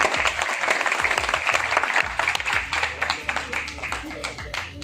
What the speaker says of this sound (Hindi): अब जो तालियां बजेगी वो आपके लिए बज रही हैं। प्लीज मारिए जरा जोर से।